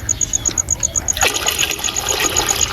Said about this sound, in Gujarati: આપણે તો પહેલાં ચૂલે ચડાવી પાણી નાખી અને એને બાફવા મૂકી દઈશું